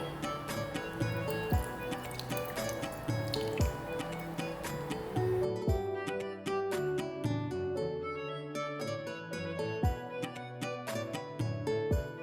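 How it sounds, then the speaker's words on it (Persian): Lemon juice drips and squirts into a fish pakora batter of spices, garlic powder and salt in a series of small wet drips and squishes. Steady background music plays throughout. "و حال نوبت است که آب لیمو را اضافه کنیم."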